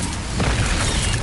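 A Confringo spell explosion in Hogwarts Legacy gives a short, loud, booming blast that swells midway through a second-long burst, heavy in the low end, with no speech.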